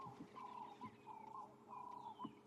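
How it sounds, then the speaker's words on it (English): A ring-necked dove coos in repeated rounded phrases at dawn in the South African bush near Kruger National Park, fairly faint, with other distant birds calling. "Ringneck dove, was known."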